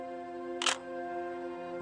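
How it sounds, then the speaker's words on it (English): A single crisp shutter click from a Canon EOS-1Ds Mark III DSLR, short and close, against a steady low hum. "That's a sweet shutter sound."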